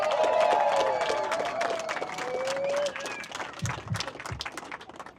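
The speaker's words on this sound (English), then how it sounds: "You're clapping now" An audience at a Colorado Democratic Party political event claps and cheers, the applause strongest at first and then thinning out, with some voices rising above it.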